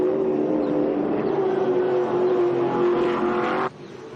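A Chevy Camaro race car of Nathan Hearn Racing in the Hi-Tec Oils Super Series at Mallala Motorsport Park: a loud, sustained engine drone with a steady pitch as it passes, cutting off abruptly near the end.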